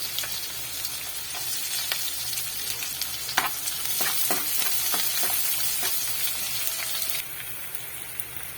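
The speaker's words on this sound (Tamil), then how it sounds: "ஒரு கொத்து கருவேப்பிலையும் சேர்த்து வெங்காயத்தை நல்லா வதக்கிக்கலாம்" Onions with curry leaves and mustard seeds sautéing in a pan give off a continuous close sizzle. Scattered spatula scrapes and taps run through it, and the sizzle thins slightly near the end.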